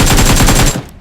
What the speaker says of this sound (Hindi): तो जैसे कि जब मैं उन 2 गाड़ी वाले से फाइट ले रहा था तो इस साइड से गन साउंड आ रहा था, आप लोगों ने सुना होगा।